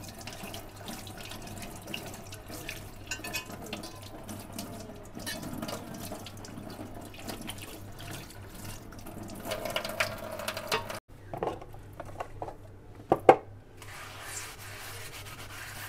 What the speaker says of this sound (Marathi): आता मी हा पुन्हा एकदा धुवून घेते, पुन्हा एकदा नळाखाली धुवून